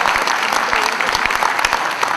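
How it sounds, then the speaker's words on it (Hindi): A large audience at a bank's platinum jubilee celebration in Thane applauds loudly to welcome guests, a dense, continuous wash of claps with sharp individual hand strikes throughout. "एक बार जोरदार तालियों के साथ उनका स्वागत करते हैं।"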